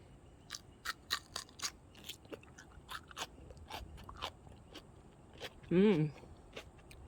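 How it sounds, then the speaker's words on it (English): A bite into a crisp homemade pickled onion made from tiny onions, a sharp crunch near the mic followed by a few quieter chewing crunches, with speech-like sound in the background. "you could probably hear as I took a bite there that it's got a real crispness to it still"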